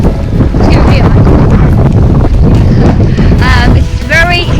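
Strong gusting wind batters the microphone on a hilly, bleak coastal headland on the Isle of Wight, a loud continuous roar with rumbling buffeting throughout.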